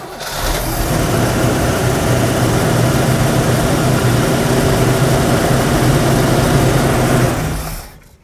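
A car engine fitted with a newly installed Edelbrock carburetor cranks and fires up, then settles into a steady, loud idle for several seconds before cutting off, with no talking.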